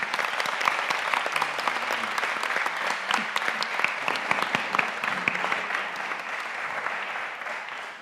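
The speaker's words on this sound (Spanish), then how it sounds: "un aplauso" An audience applauding at a documentary pitching forum session, dense steady clapping from many hands that carries on for several seconds and tapers slightly at the end, with no talk over it.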